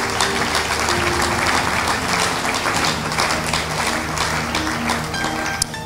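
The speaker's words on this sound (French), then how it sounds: "Est-ce qu'on peut acclamer le Seigneur?" A church congregation applauds and cheers in praise of the Lord during a worship service, with dense, steady clapping filling the room for several seconds at an even, loud level.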